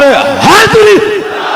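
A crowd shouts the religious slogan Naara-e-Haidari in one loud, brief, unified roar of voices.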